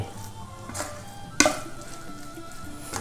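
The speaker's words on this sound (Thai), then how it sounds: "คุกต่อไป คนให้เข้ากันครับ เป็นเนื้อเดียวกันเลย" Pork larb with offal frying in a pan while being stirred, a steady moderate sizzle with one sharp clack of a utensil against the pan midway.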